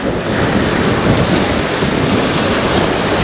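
Strong wind on Piyali Island in the Sundarbans roars and buffets the microphone continuously, loud and close, with a dull rushing noise throughout and no voices.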